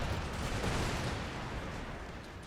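Cannon fire in a Sweden campaign of a real-time strategy war game: a dense, sustained rumbling barrage of booming shots blending into a continuous roar, loud throughout.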